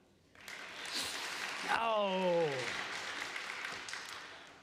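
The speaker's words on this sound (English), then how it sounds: "would you clap?" A church congregation at a contemporary service claps at the speaker's request, a moderate spread of applause rising and then thinning, with a voice calling out an exclamation partway through.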